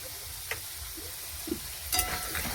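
Ground coriander, cumin and red chili powder with turmeric frying in a pan, a quiet steady sizzle with a few soft stirring scrapes, close by and without talk.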